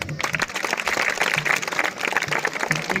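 An audience claps at a lamp-lighting ceremony, a short burst of scattered hand clapping with some voices mixed in, moderately close.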